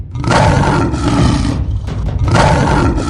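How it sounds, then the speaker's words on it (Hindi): A lion roars in a Hindi animal cartoon: two loud, close, rasping roars split by a short pause, with deep growling texture and no talk. "तभी वहाँ शेरा का दहाड़ने की आवाज आती है और सब डर जाते हैं।"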